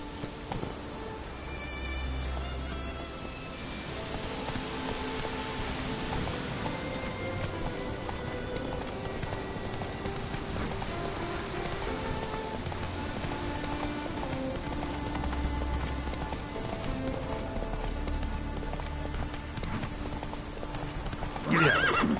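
Hoofbeats of Roach, the horse in The Witcher 3, clip-clop steadily throughout as the animal gallops, with repeated neighs and whinnies rising over the rhythmic thudding, all set against a continuous game soundscape.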